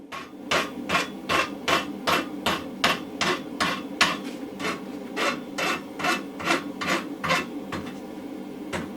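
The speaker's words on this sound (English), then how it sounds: "we're going to take it to the vise now and give it a rasp." A steel blacksmith punch clamped in a vise is worked with a rasp, giving a steady rhythm of about twenty loud, harsh scraping strokes with no talking.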